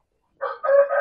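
A five-month-old Bangkok rooster crows once, a short, close, fairly loud call that starts after a moment of silence and rises and wavers to the end.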